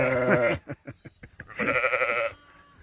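Purebred long wool English Cotswold sheep give two loud, drawn-out bleats, with a string of short clicks and bleats in between.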